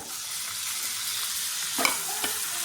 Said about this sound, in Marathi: थोडासा कांदा परतून घेऊ कांदा परतून घ्यायचा